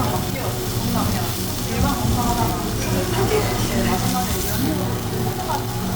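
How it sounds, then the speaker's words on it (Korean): Steady sizzling of beef chuck flap searing over a tabletop charcoal brazier, a continuous crackling hiss with a low rumble underneath, close and fairly loud. "지글지글 식욕을 자극시키는 굽는 소리 듣고 오시겠습니다"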